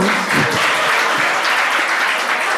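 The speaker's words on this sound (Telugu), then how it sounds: "చప్పట్లు కొడదాం" Children applauding at a church Christmas event, a dense, loud burst of clapping from a group that fills the whole moment without pause.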